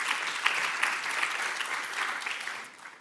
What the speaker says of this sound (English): can we please give a round of applause to day 1 yesterday?